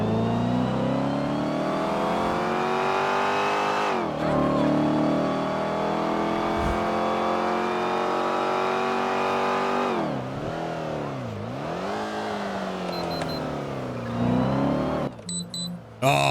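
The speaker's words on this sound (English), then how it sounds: "And then we also installed an engine sound mod" A modded car engine sound in GTA 5, a sustained high revving engine that rises and falls in pitch with gear changes and dips, loud and close, ending in abrupt cuts.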